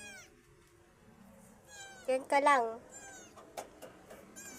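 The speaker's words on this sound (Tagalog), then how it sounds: "So, meow pa rin siya ng meow." A cat meowing close by, with a couple of faint mews early on and then a louder drawn-out meow in the middle, while a person speaks softly around it.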